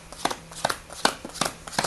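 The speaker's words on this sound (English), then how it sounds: "you deal out the cards until the spectator says" Playing cards dealt one at a time onto a table for a card trick, a steady series of crisp slapping flicks about every few tenths of a second, close and clear.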